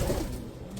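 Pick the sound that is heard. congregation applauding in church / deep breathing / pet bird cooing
pet bird cooing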